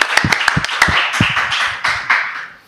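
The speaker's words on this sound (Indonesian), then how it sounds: "Tepuk tangan dong kalau gitu." A few people clap hands in a small podcast studio at RRI Baubau, a sparse burst of sharp, close claps with uneven rhythm, loud and dry, fading over a couple of seconds.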